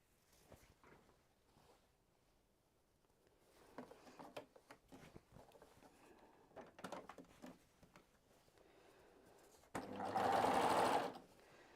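A sewing machine stitches the bottom hem of Christmas pajamas, whirring in one steady close burst near the end after a stretch of quiet handling noises and rustling fabric.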